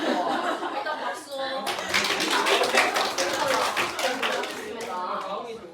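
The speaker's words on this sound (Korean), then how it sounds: "일단 박수." A classroom of students breaks into brisk, dense clapping that swells and holds for several seconds during a student-teaching lesson, mixed with chatter and bits of laughter; a voice talks just before the clapping starts.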